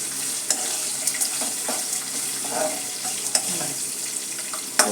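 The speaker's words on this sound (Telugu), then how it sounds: "పోపు అంతా చక్కగా వేగిపోయి చూసారా" Mustard seeds, hing and curry leaves sizzle steadily in hot oil for a tempering, a close, continuous crackling fry with occasional sharper pops and stirring scrapes, no voices.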